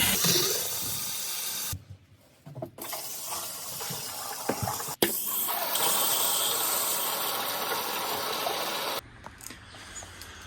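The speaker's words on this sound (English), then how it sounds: "I might just run some more water through the hot side of the tap" Water runs through the tap lines of an offroad caravan, a steady hissing rush broken by brief pauses and sputters, with a sharp click midway and a change in flow near the end.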